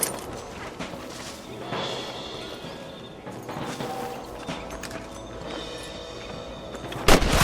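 Gunshots crack out across an open New Austin landscape in Red Dead Redemption, several scattered reports over a busy background of hooves and movement, with one sharp loud shot standing out near the end.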